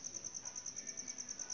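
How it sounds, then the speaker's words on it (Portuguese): A cricket chirps indoors inside a house, a faint, high, rapid pulsing trill repeating evenly and alone against a quiet room. "tem um grilo aqui dentro dessa casa"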